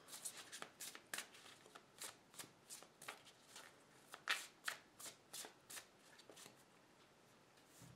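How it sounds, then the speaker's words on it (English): Tarot cards being shuffled in a quick series of soft riffling bursts, close up and fairly quiet, with no one speaking. "Let's give these a very good shuffle."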